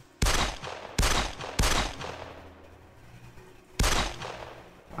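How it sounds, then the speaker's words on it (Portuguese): Gunfire in the video game 13 Days in Hell: four loud, sharp shots at irregular intervals, each with a decaying tail, over a low background with no talk. "Errei o tiro no Kenga."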